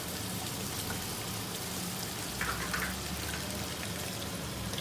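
Lamb mince fries in a pan for a keema capsicum dish, giving a soft, steady sizzle and crackle close by at low volume, with no talking.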